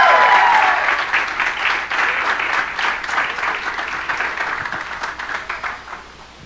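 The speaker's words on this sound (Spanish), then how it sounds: "Recibamos con un fuerte aplauso" Loud congregation applause welcoming an apostle to the stage at a church conference, with strong dense clapping at the start that gradually thins and fades.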